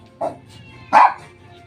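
A dog gives two short barks close by, a brief higher yip followed by a louder, fuller bark, over quiet background hum.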